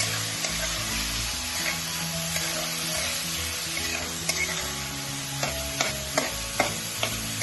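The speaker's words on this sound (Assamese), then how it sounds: "এয়া মই অলপ ভাজি লৈছোঁ।" A cup of quinoa is lightly dry-roasted in a pan, giving a steady close sizzle under the repeated scrape and tap of a spoon stirring the grains, with sharper clicks toward the end.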